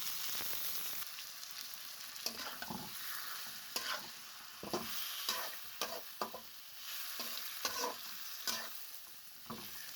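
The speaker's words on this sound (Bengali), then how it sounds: "প্রথমে টমেটো কুচি করে রেখেছিলাম, তা এখানে দিয়ে দিলাম। দিয়ে ভালো করে একটু ভেজে নিতে হবে।" Chopped tomatoes fry in a pan for a fish and cabbage gravy, a steady close sizzle broken by repeated scraping stirs at an uneven rhythm, with no talking.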